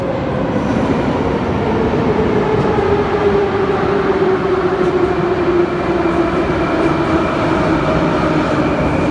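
A Moscow metro train rumbles loudly through a station, with steady wheel noise and a faint squeal running underneath, no talking.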